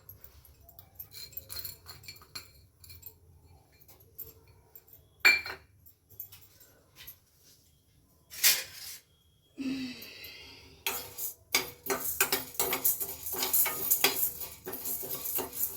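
Toor dal is roasted on low heat in a steel pan, with scattered spatula scrapes and clinks against the metal, quiet at first and then a busier run of stirring and rattling toward the end.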